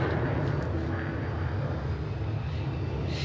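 Boom XB-1 supersonic test jet roars during takeoff as a broad, steady rumble with heavy low-end, heard from a distance throughout.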